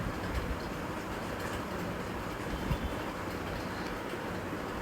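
A train runs along the tracks in the Indian Vehicle Simulator game, a steady, dense rumble of rolling wheels that holds evenly throughout with no voices over it.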